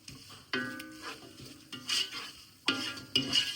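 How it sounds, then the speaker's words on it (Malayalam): King fish biryani masala being stirred in a pan after salt goes in, several separate scraping strokes with a soft sizzle between them, close and moderately loud with no voices. "നന്നായിട്ട് ഇളക്കി കൊടുക്കാം."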